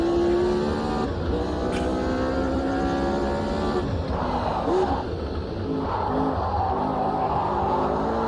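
Race car engine in the Automobilista 2 sim racing game, a loud, steady drone that rises and falls in pitch through gear changes, with no talk over it.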